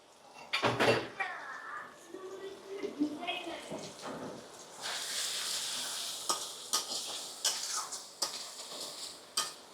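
Soaked spice paste hits a hot frying pan for a Bengali topse fish curry, giving a broadband sizzle that swells midway and holds, with clinks of a utensil against the pan and brief talk early on.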